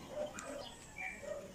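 Bird calling outdoors in the Philippines, a few short, faint chirps and coo-like notes spaced across a quiet background, fairly distant.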